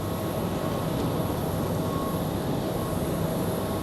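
Pilatus turboprop sitting on the runway at Raleigh-Durham airport on a very cold evening, a steady broadband engine roar and hiss held at constant level throughout, fairly distant with no talk.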